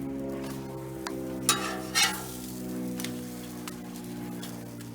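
Quesadillas frying on a Blackstone griddle, a continuous soft sizzle with a low steady hum beneath and a few sharp clicks and scrapes of a spatula against the flat top.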